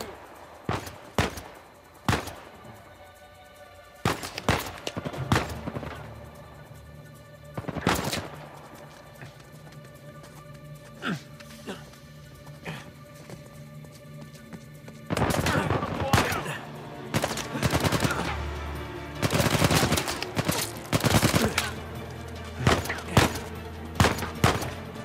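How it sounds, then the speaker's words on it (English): Repeated gunfire bursts and single shots from the video game Uncharted 4: A Thief's End, loud and sharp, scattered through the first half and then dense and sustained later, with bits of speech in between. "Shot at. Told you we should have brought guns."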